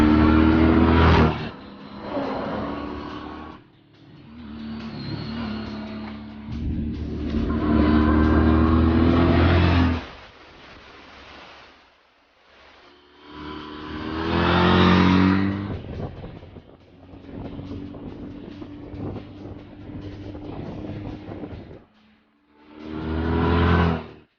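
A 2014 Honda CTX1300 motorcycle being ridden, its engine rising and falling through several loud throttle surges and gear changes, with quieter cruising stretches in between and no speech.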